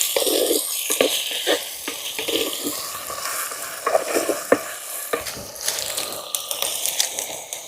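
Goat tripe (boti) frying in a pan, a steady close sizzle broken by repeated scraping clicks of a spatula stirring the pieces, with no talking.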